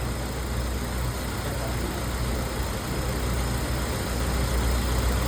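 A Honda K20-engined car sits idling, giving a steady, loud, close-up engine drone with a continuous low rumble and no break throughout.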